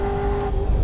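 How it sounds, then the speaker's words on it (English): A Chevy Camaro SS 1LE engine holds a steady loud note on a race track, a sustained drone with no talk over it. "Holding the gear through here, the engine sounds fantastic."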